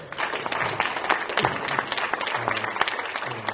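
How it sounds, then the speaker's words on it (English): A Montgomery County, Ohio Democratic Party meeting audience gives Zach a round of applause, steady dense clapping filling the room without pause and without talk. "And give Zach another round of applause."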